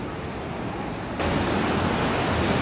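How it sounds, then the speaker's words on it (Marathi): The Aare river rushes through a rocky gorge in Switzerland, a loud, dense, continuous roar of water that grows noticeably stronger partway through, with no voices. "पहा पाण्याचा प्रवाह आणि पाण्याच्या प्रवाहामुळं झालेलं दगडाचं शरण"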